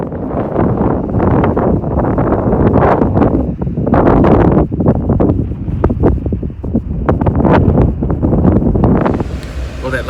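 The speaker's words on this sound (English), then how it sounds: "Quite windy. Sorry about that." Strong wind buffets the microphone at a high mountain viewpoint in Grand Mesa National Forest, a loud continuous roaring rumble with gusty swells throughout.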